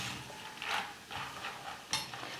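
Peanuts frying in hot oil inside a slotted ladle while a potato mixture snack is being made, giving a quiet, close hiss with a few brief bursts of sizzle and scraping.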